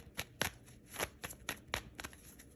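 Tarot cards riffle and snap in a quiet room, about a dozen crisp, irregular shuffling bursts and flicks as cards are mixed and drawn, close and fairly soft with no voices.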